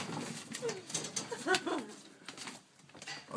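A pet pigeon coos indoors in brief, low repeated calls, heard close with some background clatter and no one talking over it.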